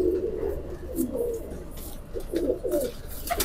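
Rampuri pigeons coo in soft, low, rolling phrases, several repeated calls close by over a steady background hum, with no talk.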